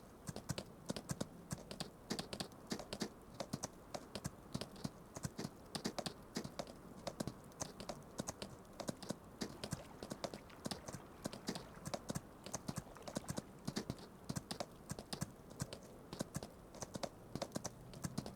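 Steady, rapid clip-clop of horse hooves in Farming Simulator 25, many overlapping beats in an even rhythm, continuous and fairly quiet throughout with no talking.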